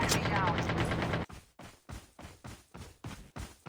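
Gunfire in a shooting video game: a dense burst of rapid automatic fire gives way to a string of separate single shots at a steady rhythm, loud and close, with a voice chanting over the opening.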